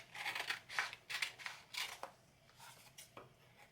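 Close, quiet snips of scissors cutting around a paper piece for a mini album craft, a series of short crisp cuts in an uneven rhythm with small pauses between them.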